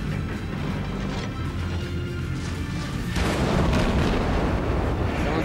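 Enemy shells fire on a cruiser in World of Warships, a dense roaring barrage of booms and crashing impacts that swells louder after a few seconds, with no clear talk.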